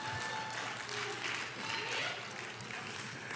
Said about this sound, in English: Hey, you already did it, but give Sister Pavlu an applause